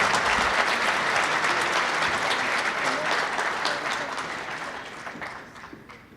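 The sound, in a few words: audience applause at football hall of fame ceremony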